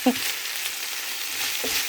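Sliced zucchini stir-fried in oil with minced pork, garlic and pepper, a steady close sizzle with brief scraping stirs at the start and near the end.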